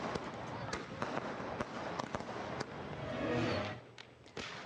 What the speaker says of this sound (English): People in northeastern Assam celebrated the occasion by bursting firecrackers and lighting lamps.